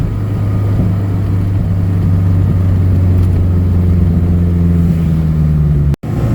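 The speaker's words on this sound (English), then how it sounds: "little bit of crackle when you come off the exhaust." Honda CRX with a D16Z6 engine idling rich in neutral, a steady low exhaust drone with faint crackle near the mic, ending in an abrupt cut.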